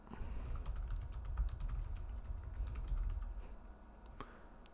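Typing on a computer keyboard, quiet clicky keystrokes in short irregular bursts over a low background hum, close up with no voices.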